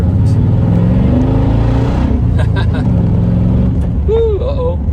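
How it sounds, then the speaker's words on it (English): Engine of a one-owner 1998 Chevrolet K truck with a five-speed manual transmission and 80k miles, a steady loud low rumble as it is given gas, with speech heard over the motor. "let's give her some gas here and see how she runs."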